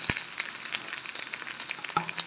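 Onions and rice stir-fry in a pan for chicken rice, making a steady crackling sizzle up close, broken by scraping stirs and small pops.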